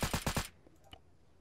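Gunfire from the video game Arma 3 in a military HALO jump dive assault: a rapid burst of four loud, close shots in quick rhythm, followed by a fainter distant shot or two.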